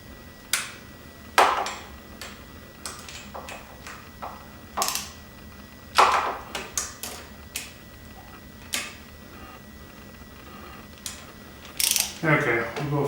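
Ratchet snugging cylinder head bolts on a Honda XR650L motorcycle, heard as short bursts of clicking pawl strokes spaced across the clip, close and fairly quiet, with a louder flurry near the end.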